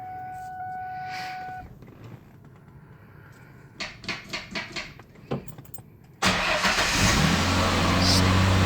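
A car starts after an automatic-to-manual transmission swap, with key and mechanical clicks leading into the engine catching and running loudly and steadily nearby; no one speaks.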